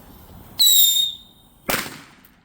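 A firework being set off outdoors gives two sharp bursts about a second apart, the first with a hissing whistle and the second a broader crackling blast, each fading quickly into quiet.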